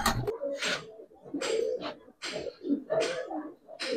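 Giribaz racer pigeons cooing in a quiet setting, a series of soft, close coos repeating in a steady rhythm about every half second to second.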